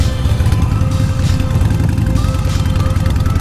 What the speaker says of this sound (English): I do want you to still hear the powerfully loud exhaust from the Vance and Hines pipes.